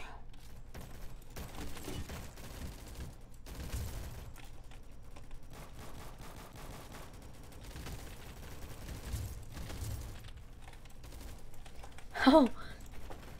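Gunfire in the Roblox game Rolling Thunder, a faint, scattered crackle of shots and rapid bursts over low background noise, with one sharper report near the end.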